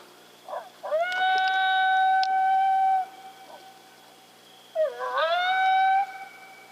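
Coyotes howl during a thermal-imaging night hunt: two long, loud howls, each rising sharply then holding a steady pitch, separated by a short quiet gap, with no talking.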